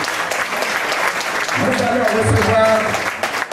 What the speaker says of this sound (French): on va reprendre les applaudissements